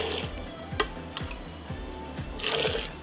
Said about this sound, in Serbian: I evo voda je proključala, sipam je u tegle i punim do vrha.